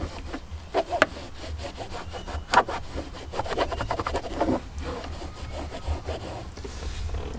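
A cloth is rubbed across a Jeep surface in a steady wipe-down, with repeated close scrubbing strokes, some firmer swipes and a continuous rough rubbing texture, without speech.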